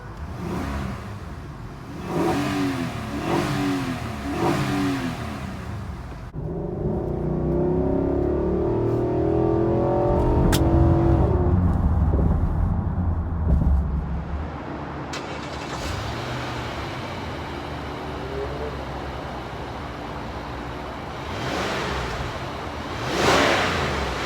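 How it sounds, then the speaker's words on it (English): A 2019 Infiniti QX80 SUV engine idles, then is revved repeatedly, the revs climbing and falling in several bursts before settling back to a steady rumble. "I'm gonna rev it up a bit just to hear the engine"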